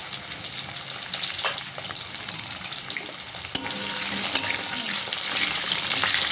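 Cut, washed potato pieces go into a pan of hot oil for a fish dish, giving a steady close sizzle with some stirring and light clatter throughout, and no voices.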